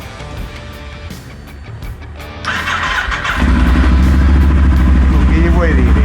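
A motorcycle nicknamed Tenerona, idle for five months after a bad crash, starts up: a few seconds of turning over and muttering give way to a loud, steady running engine that catches on the first try, with voices talking around it.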